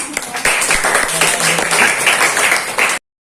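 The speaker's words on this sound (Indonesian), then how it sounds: "Oke, terima kasih, tepuk tangan." High school students in a history class at SMAN 3 Rangkasbitung clap briefly, a close, lively patter of a modest group of hands that stops abruptly.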